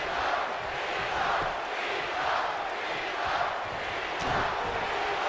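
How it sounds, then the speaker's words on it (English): A WWE 2K19 video game arena crowd roars and cheers steadily throughout, a dense continuous wash of noise that swells slightly at moments. "Crowd on their feet."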